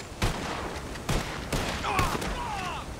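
Several loud gunshots ring out in a Red Dead Online shootout, spaced about a second apart with sharp attacks and lingering echoes, followed by whistling ricochet-like tones near the end.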